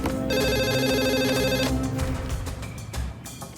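A phone rings loudly with one burst of electronic ringtone, then cuts off, leaving muffled background noise.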